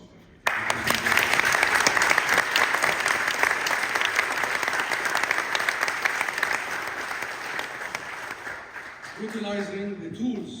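A large audience applauds South Africa during a speech about Gaza, with thick sustained clapping starting abruptly, holding for about nine seconds and fading, and a voice resuming at the end.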